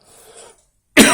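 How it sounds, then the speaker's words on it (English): Faint rustling, a brief silence, then one loud, close cough at the end. "Hence the cough. Bit chesty."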